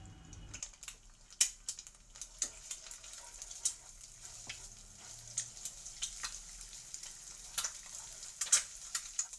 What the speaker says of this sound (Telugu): 1 ఎగ్ తీసుకుని దానిని బ్రేక్ చేసి వేసుకోవాలి